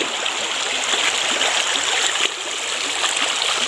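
River water flowing steadily in a broad, continuous rushing wash, close and fairly loud, with no talking over it.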